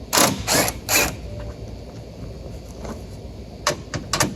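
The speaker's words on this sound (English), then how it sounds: "we're going to use a 10 mil to take off 4 bolts on the top" A ratchet turns a 10 mm socket to loosen bolts on top of a Ram truck's headlight area: bursts of quick mechanical clicking up close, then scattered lighter clicks and taps.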